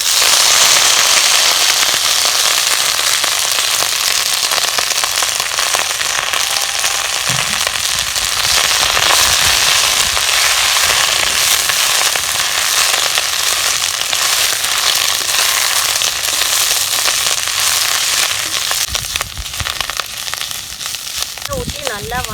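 Drumstick greens sauté in a pan with tamarind, sizzling and crackling loudly and steadily throughout, with occasional stirring clatter near the end.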